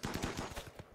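Rapid gunfire from the colony combat game Rimworld, a quick burst of repeated sharp shots in a tight rhythm lasting about a second, loud and alone with no talking.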